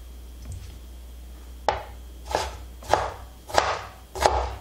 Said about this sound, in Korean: 오이지 다섯 개를 썰었어요.